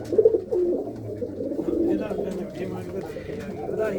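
Low, rolling coos from loft pigeons sound steadily at close range, partly under nearby talk.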